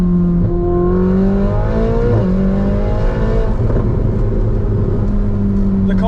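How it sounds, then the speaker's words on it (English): A Ferrari 488 Spider in race mode, driven through the Las Vegas desert, gives off loud, close exhaust burbles and crackles over a rising and falling engine drone. "The car is burbling way more. It must do that when you're in race mode."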